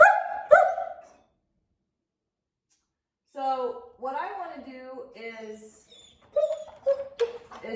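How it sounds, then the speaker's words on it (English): A dog whines and whimpers in a crate in high, wavering bursts near the microphone, alternating with someone talking. "the more vocal he gets, the more inclined I am to move backwards"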